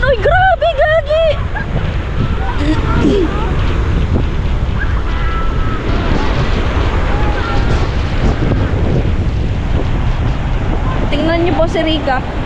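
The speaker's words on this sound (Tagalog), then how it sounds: "Grabe talaga, lakas ang alon." Strong ocean waves at a pier surge and roar continuously in gusty wind, with excited voices shouting over the rush of water.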